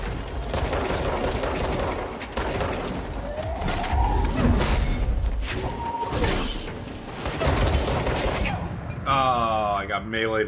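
Sniper and other gunfire in the Control video game, a sustained barrage of sharp cracks and thuds amid chaotic combat noise, with loud impacts throughout.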